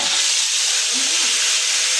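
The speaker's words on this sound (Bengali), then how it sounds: "এখন আমি সবজিগুলা দিয়ে দিব, দিয়ে হালকা করে একটু ভেজে নিব।" Vegetables for beef khichuri fry lightly in hot oil, a broad, steady sizzle and hiss that stays loud and unbroken from start to finish, with no talking over it.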